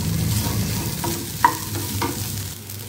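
Washed poha, or flattened rice, fries in ghee for aval ven pongal, a close continuous sizzle with a few spoon scrapes and one sharp clink of metal.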